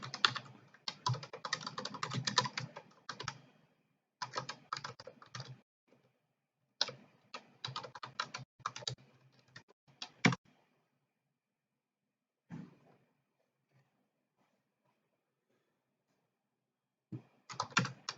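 Fast clattering keystrokes on a computer keyboard arrive in close, crisp bursts of a second or two separated by quiet pauses, with a few isolated taps near the end.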